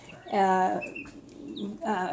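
A hen of uncertain breed gives two bursts of harmonic, drawn-out clucking close by, with a short squeak between them and no talk.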